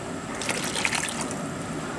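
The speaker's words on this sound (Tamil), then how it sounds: "தேவையான அளவு தண்ணி ஊற்றுறேன்." Water poured into parboiled rice and dal for cooking kootan choru, a steady splashing gush that runs for about two seconds at moderate loudness with no voices.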